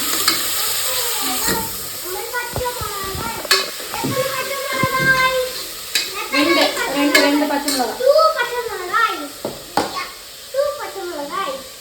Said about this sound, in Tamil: பச்சை மிளகாய் வெங்காயம் நல்லா வதக்கிக்கலாம்